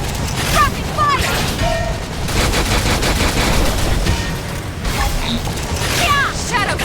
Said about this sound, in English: Rocket fire.